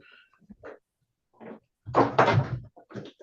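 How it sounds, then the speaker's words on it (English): Door being shut nearby, a few soft bumps and handling sounds followed by a firm thud and latch clatter, with quiet gaps between them. "let me close my door"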